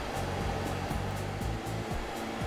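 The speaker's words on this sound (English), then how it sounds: "Next, turn on the scrubbing motor, then the vacuum motor," An ICE Scrub 50D battery floor scrubber runs with its scrubbing motor, vacuum motor and water pump on, making a steady, loud whirring drone with a faint pulsing rhythm and no talk.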